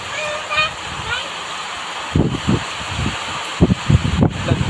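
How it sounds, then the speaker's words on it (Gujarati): Heavy rain pouring down in a steady broadband rush, with someone talking over it in bursts through much of the stretch. "કેટલો જોરદાર વરસાદ પડી રહ્યો છે"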